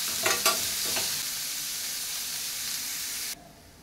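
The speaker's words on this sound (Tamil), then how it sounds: "வெங்காயம் நல்லா பொன்னிறமாக மட்டும் வதக்கிட்டே இருக்கணும்." Onions sautéing in a pan until golden for chana masala, a steady broadband sizzle and frying hiss with a few stirring scrapes near the start, close and moderately loud, cutting off abruptly near the end.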